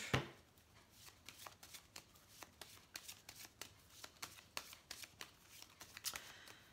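Repeated riffle shuffling of a small 32-card deck of playing cards, a quick rhythmic series of crisp papery bursts at close range in an otherwise quiet room, with no talking.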